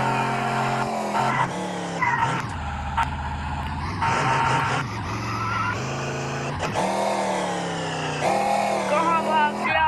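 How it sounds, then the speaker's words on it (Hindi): Video-game car in Chicken Gun driven fast, a continuous engine drone with shifting pitch, skids and tire squeals, loud and close throughout, mixed with game effects and music. "ये रहा वो, बहुत तेज गाड़ी चला रहा है।"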